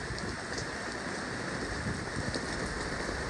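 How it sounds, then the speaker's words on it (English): Heavy rain pours down on a city street in New York, a dense, steady hiss of drops striking surfaces close by, with no talking. "Oh, it's raining hard."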